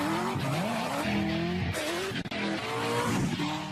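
A Corvette ZR1 brakes hard from 60 mph, its tires skidding and squealing in a loud, continuous screech that shifts in pitch, with engine noise underneath and a brief dip partway through.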